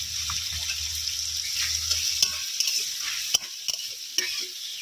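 Diced potatoes seasoned with salt and turmeric sizzle and hiss steadily in a hot wok, with a low rumble fading midway and several sharp clicks and scrapes of stirring near the end.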